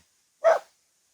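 A single short bark from a dog in an apple orchard in rural Bonghwa, Korea, heard alone and fairly close in otherwise quiet surroundings.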